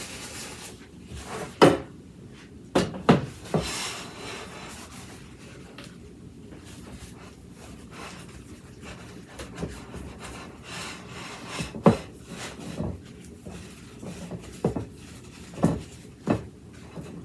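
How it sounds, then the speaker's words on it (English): A thin coat of Crisco is spread around a cake pan, giving soft rubbing and smearing sounds punctuated by several sharp knocks of the pan against the counter, close and fairly quiet with no talking. "I'm just putting a thin coating of Crisco all around this pan."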